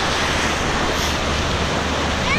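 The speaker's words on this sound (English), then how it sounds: "Just chilling at the beach. Getting the waves." Ocean surf at a beach roars as a steady, loud wash of broadband noise with wind buffeting the microphone, no voices over it.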